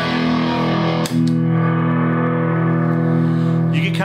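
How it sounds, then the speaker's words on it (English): A Mesa Boogie TA-30 Transatlantic guitar amp with a channel-switching fault gives a sharp click, then a sustained distorted tone swells and rings on with reverb and echo for several seconds. "you get kind of a weird swell or echo in the reverb after the channel switching"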